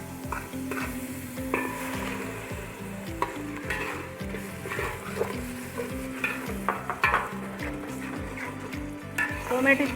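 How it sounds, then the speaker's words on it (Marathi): Tomato puree and ginger garlic paste sizzling in a pan for sambhar while being stirred, soft frying hiss under repeated rhythmic scraping strokes, with faint background music and no talking. "आलं लसूण पेस्ट चांगलं मिक्स करून टोमॅटोची प्युरी घालते मी आता।"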